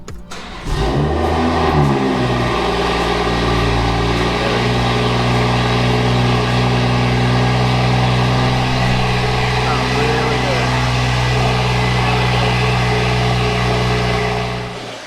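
A BMW 340i with a B58 engine cranks and fires up, then settles into a steady, loud idle that holds with a low rumbling tone for the rest of the time.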